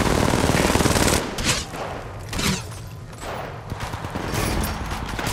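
Rapid automatic gunfire in Apex Legends Mobile opens with a loud burst, then continues as scattered volleys and single shots, with weapon handling clicks in between.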